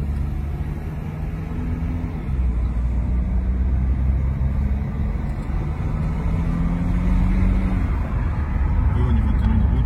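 A BMW X3 with a 350 hp engine drives uphill under steady acceleration, its low, continuous engine rumble and road noise filling the cabin throughout with a gentle rise in pitch.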